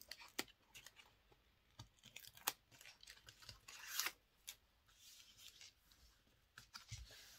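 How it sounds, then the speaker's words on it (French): Quiet, close crinkles and short ripping sounds as adhesive tape is peeled off a surface, in several separate pulls with brief pauses between. "On décolle nos scotch."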